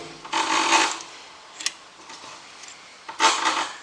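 A choke cable is pulled out of a Morris Mini Cooper S, giving two rasping, scraping bursts separated by a quieter gap with a brief click, all close up with no talking.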